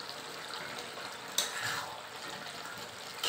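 Dry fish masala with green chillies fries in a pan, giving a steady close sizzle and crackle with a brief sharper spatter partway through and no voices.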